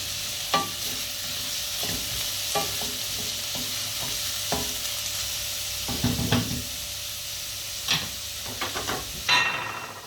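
Peas stirred in a hot pan, with a steady frying sizzle and intermittent scraping clinks of a utensil against the pan.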